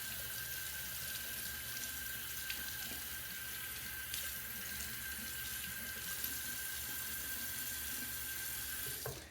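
Tap water runs steadily into a sink, rinsing gunk from a Rockwell 6c safety razor head, a continuous close hiss and splash with no voices.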